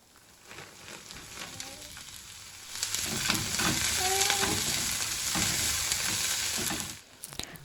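Dried red chilies and vegetables fry in a home kitchen pan. A soft crackle swells into a louder, steady sizzle with stirring scrapes, then drops away near the end.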